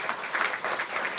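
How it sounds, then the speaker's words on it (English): Brief burst of audience applause at a symposium, moderately loud and steady for just over a second, with no talking over it. "Yeah, let's give them a round of applause."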